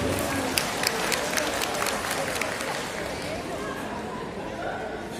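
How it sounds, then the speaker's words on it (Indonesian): Applause from the audience at a provincial teachers' awards night in Aceh, a burst of sharp claps over crowd chatter early on that fades into murmuring noise toward the end. "memberikan tepuk tangan merah untuk dirinya sendiri"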